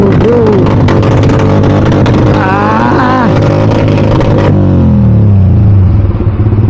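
A Yamaha R15 motorcycle with a Code 6 tune revs hard up close, its exhaust crackling with quick pops and bangs over a loud, rough engine drone that then settles into a falling rumble.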